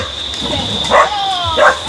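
A dog gives two short, sharp barks about half a second apart, close and loud over a background hum and faint outdoor noise.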